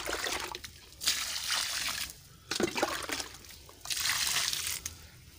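Water poured onto the soil around a Gajah Lampung guava plant, a JMS fertilizer solution splashing and trickling in three distinct pours, each about a second long, close and fairly loud with short pauses between.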